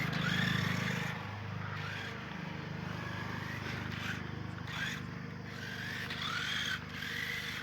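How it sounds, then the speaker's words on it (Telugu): The electric motor of an RC monster truck whirs steadily, close but quiet, with gentle rises and dips in pitch and no talking. "మోటార్ చూసి బాగా పనిచేస్తున్నాయి"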